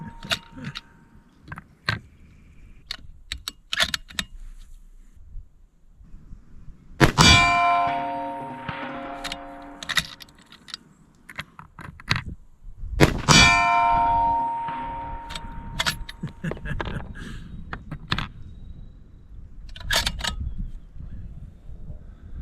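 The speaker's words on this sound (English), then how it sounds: "That big plate too, it's like a gong, man." Rifle bullets striking a large steel target plate at long range, each hit producing a loud metallic clang that rings out and decays like a gong, with two strong impacts and several lighter clinks.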